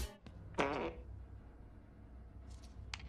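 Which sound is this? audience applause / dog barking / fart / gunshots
fart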